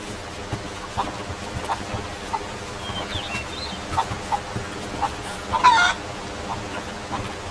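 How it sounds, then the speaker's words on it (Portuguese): Chickens cluck and a rooster crows in Rise of the Tomb Raider, the fowl sounds scattered over a steady ambient bed, with a brief louder squawk near the end. "Afoguei a galinha."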